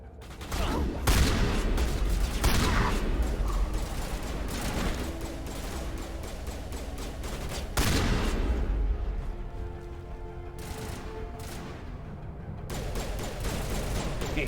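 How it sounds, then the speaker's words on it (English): Burst-fire sniper rifle shots crack repeatedly in Mass Effect 1 combat, loud dense volleys of gunfire and explosions layered over game background noise and mechanical sounds. "sniping them with a fucking burst fire sniper rifle"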